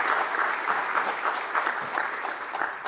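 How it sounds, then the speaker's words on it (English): Audience at an economics forecasting award presentation applauds in a steady, even round of clapping from a seated crowd, holding at moderate loudness from start to finish with no talk over it. "a round of applause is in order for Sam"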